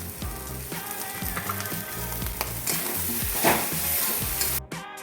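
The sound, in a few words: fish filling sautéed with spices in pan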